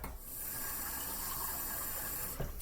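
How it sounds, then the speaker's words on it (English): Water streams steadily into a slow cooker holding meatballs, a close, continuous pouring hiss lasting a couple of seconds before it cuts off. "I'm going to add maybe just a little bit more water, guys, to make it a cup."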